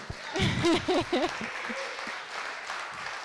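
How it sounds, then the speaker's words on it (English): A short burst of applause from a crowd at an opening ceremony, with a voice speaking over the start before the clapping settles into a steady, moderate patter. "can I have like a little round of applause for them?"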